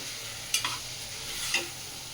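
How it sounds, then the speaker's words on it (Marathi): Suran (elephant foot yam) curry with ground masala paste is stirred in a pan: two distinct scraping strokes, about a second apart, over a faint steady sizzle. "चांगलं ढवळून घेते"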